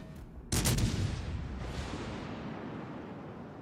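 Naval gunfire in the World of Warships Legends video game: a sudden loud blast of shots fires in quick succession, then a long rumbling roar keeps going and slowly fades, with no voice over it.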